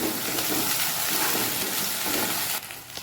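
Ginger-garlic paste fries in hot oil with onion and green chilli, a steady close sizzle that drops suddenly near the end.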